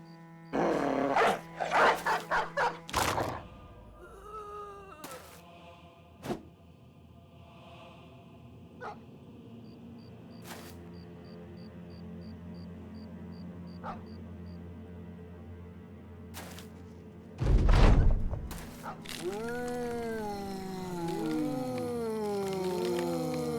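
Dogs in the video game Battle Brothers barking and howling: a burst of rapid barks, then scattered yelps and thuds with a faint repeating tone, another loud bark cluster, and long overlapping howls at the end.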